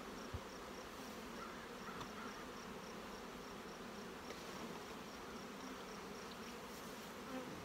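Honey bees buzz continuously around an open hive being split, a steady, soft close hum with no voices.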